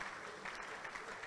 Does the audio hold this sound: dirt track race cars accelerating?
no